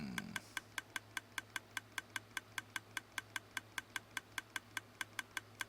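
A Minecraft dropper in a video game clicks steadily, a crisp mechanical tick repeating about five times per second for several seconds, alone over a low hum.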